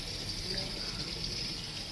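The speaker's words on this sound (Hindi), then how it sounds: "और ये पीछे पानी भर रहा है" Water running into a container for watering garden pots, a steady close hiss and splash that continues without pause over the full stretch.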